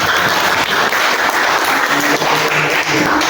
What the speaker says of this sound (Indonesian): Aplaus dulu untuk kawan-kawannya.